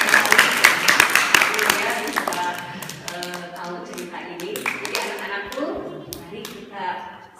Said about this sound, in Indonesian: Tepuk tangan sekali lagi untuk dua sensei ini